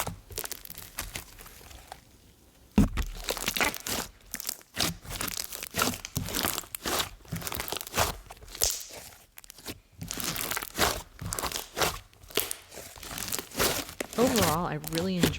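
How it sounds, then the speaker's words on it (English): Jelly slime from a Halloween-edition set is squished and played with up close, giving crisp crinkling crunches and squelches in quick irregular bursts, with soft talking mixed in. "play with the jelly piece and get really good crispy ASMR"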